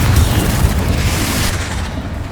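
A Confringo blasting spell in Hogwarts Legacy explodes into a loud, continuous roaring blast that fills the whole moment and tapers off slightly at the end.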